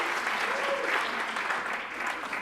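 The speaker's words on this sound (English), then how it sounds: "So give them all a round of applause" After a duet at a live show, an audience claps in a steady, even wash of applause that holds at moderate loudness throughout with no voice over it.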